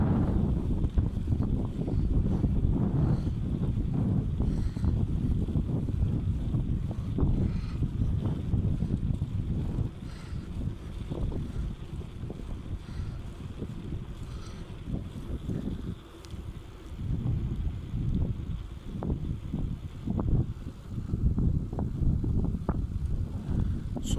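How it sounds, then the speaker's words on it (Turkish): Steady wind at the seashore in Mürefte, Turkey, buffeting the microphone with a low, gusty roar that rises and falls, loud and continuous. "Ama sahile indikçe de rüzgar artıyor."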